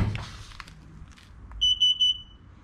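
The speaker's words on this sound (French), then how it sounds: "vous avez entendu les 3 bips" Three short, bright electronic beeps sounding an error code from a Tesla Model X frunk actuator kit, evenly spaced and clear over a quiet background after some faint handling noise.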